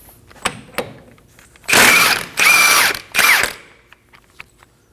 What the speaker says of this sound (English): Using a 32mm socket, we're gonna go ahead and remove the axle nut.